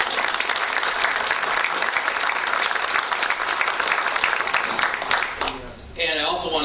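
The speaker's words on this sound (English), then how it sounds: "Round of applause." At an event, an audience gives a dense, steady round of applause for a sponsor, with cheers mixed in. The clapping fades near the end as a voice begins speaking.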